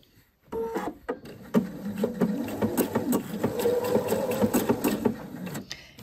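A sewing machine stitches a blind hem in one continuous run of several seconds, close and fairly loud, with rapid rhythmic needle clatter.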